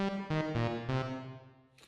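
Synthesizer notes from the free Primer VST played with reverb added, sounding as a few sustained, bright chord hits in a steady rhythm, each ringing out and blending into a lingering room-like tail, alone without talk.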